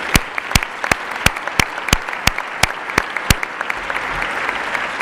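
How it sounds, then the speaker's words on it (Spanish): Applause at a finance-evening awards ceremony, a wash of audience clapping punctuated by loud, evenly spaced sharp claps from one nearby pair of hands, steady and rhythmic throughout. "les pido a todos que le den un aplauso"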